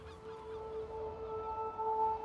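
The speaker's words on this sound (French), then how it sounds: "ces oiseaux qu'on entend" Faint, steady tonal bird calls drift over a quiet, rumbling background, distant and continuous.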